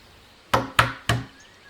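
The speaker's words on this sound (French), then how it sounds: "Il frappa à la porte." Three sharp knocks on a door in a told fairy tale about the three little pigs, evenly spaced and close, each a hard rap with a short ring-off, then quiet.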